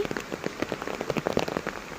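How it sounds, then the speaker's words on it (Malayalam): Heavy rain falls around a house, a dense patter of drops striking surfaces close by, steady and continuous with no voices. "നല്ല മഴയാണ് ഇവിടെ"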